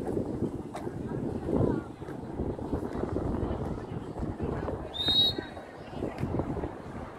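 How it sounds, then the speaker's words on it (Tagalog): Strong seaside wind in Kuwait roars and buffets the microphone throughout, a steady low rumble with gusts, and a brief bird call briefly rises above it. "Grabe mahangin."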